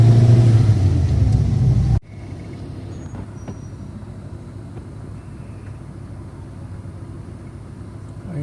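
A car pushes along a flooded road in Baroda with a heavy low engine rumble that drops abruptly to a quieter steady drone of engine and water, close and continuous.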